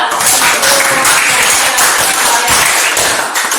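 A dense, steady wash of clapping from a classroom group, loud and sustained throughout with no pauses.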